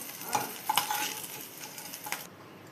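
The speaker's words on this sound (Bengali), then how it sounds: "এবার তুলে নিব কড়াই থেকে যা আছে মাছগুলো" Fried fish pieces are lifted from a sizzling wok with metal clinks and scrapes, a few sharp taps standing out over the steady frying hiss.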